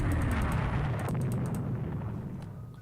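Naval guns fire in a sea battle in the strategy game Rule the Waves 3, giving a dense, rumbling roar of gunfire and explosions that slowly fades, with no talk.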